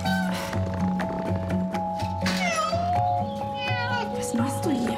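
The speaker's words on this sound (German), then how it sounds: "Blöde Katze!" A cat meows repeatedly over a steady background hum, with a person's voice mixed in among the cries.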